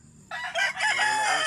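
A rooster crows once, loud and close, in a single rising and wavering call that starts abruptly and holds to the end, set near a hut under a mango tree.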